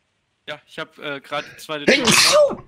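A single loud sneeze bursts out near the end, right after someone speaks a short phrase in German.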